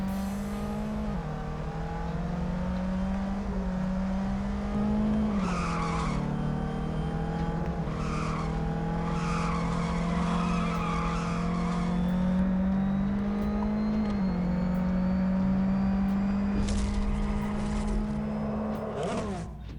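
Arcade-style racing video game audio: a steady engine drone that rises and dips with shifts and revs, with repeated tire squeals and skids over the top, loud and continuous, with no voices.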